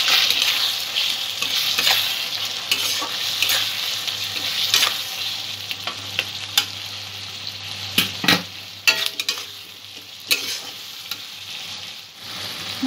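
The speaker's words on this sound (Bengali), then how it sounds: "সমস্ত মশলাগুলো আরও মিনিট 2 কষিয়ে নেব" Spices stir-fried in hot oil for Bengali-style chicken ghugni, a steady close sizzle and crackle with occasional stirring scrapes, no voices.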